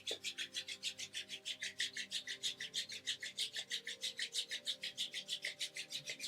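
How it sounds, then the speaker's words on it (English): Hands rubbing together briskly to warm the palms, a quick regular swishing rasp of about six strokes per second, close and soft, continuing steadily without talk. "gently rub your hands together, warming your palms"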